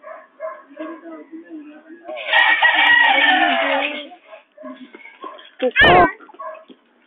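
A pet chicken clucks and calls loudly and close by in a rapid series, with one longer drawn-out call in the middle and a sharp squawk near the end, while people talk nearby.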